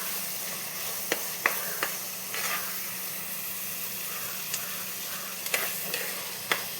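Onions frying in a pan for a fish curry hiss with a steady, quiet sizzle, broken by occasional sharp clicks and scrapes of stirring, with no talking.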